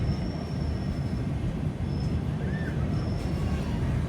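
Tiruchirappalli–Rameswaram Express train rumbles steadily close by as it departs after a crossing, a continuous heavy low roar of wagons with a faint wheel squeal midway.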